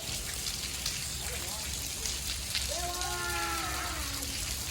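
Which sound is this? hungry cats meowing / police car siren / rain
rain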